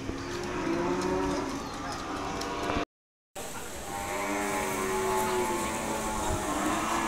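Cattle lowing loudly and repeatedly at a large livestock market in Gunungkidul, with long drawn-out moos overlapping against a dense crowd hubbub, broken by a brief silent gap.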